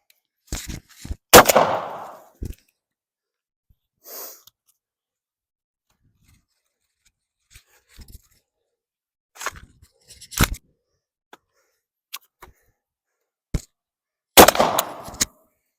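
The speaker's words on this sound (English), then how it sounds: "Yep. You're getting a single shot out of it." A rifle fitted with an FRT-15L3 trigger fires during drop and torture testing. Two loud, sharp bangs sit near the start and end of a mostly quiet stretch, with scattered fainter clicks and knocks between them.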